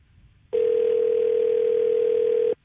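A steady telephone tone sounds on a phone call, one loud continuous note lasting about two seconds and starting and ending abruptly after a short quiet stretch.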